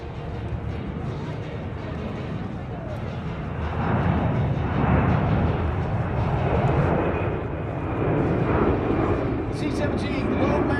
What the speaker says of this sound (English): C-17 Globemaster 3 lifting off.